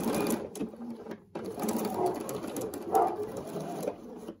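A sewing machine stitching a quilt border, steady close mechanical whirring with a brief pause before resuming, a faint voice barely present beneath it.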